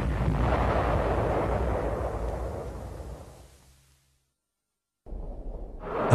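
A crashing V-1 flying bomb exploding in wartime archive sound: a loud, broad roaring blast that slowly fades into silence, then a second burst rises sharply at the end.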